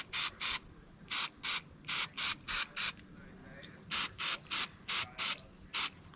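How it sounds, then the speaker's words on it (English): Bursts from an aerosol can of cleaner aimed at the bolt and firing pin of a disassembled Mossberg 935 shotgun: about a dozen short, even hissing sprays at a steady rhythm, close and fairly loud with quiet gaps between them. "Give this a nice good spraying."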